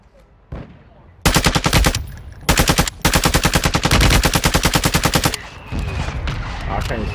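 Automatic gunfire in the video game Warzone 2 rattles out in loud, close bursts of rapid shots with brief gaps between them, followed by quieter game sounds.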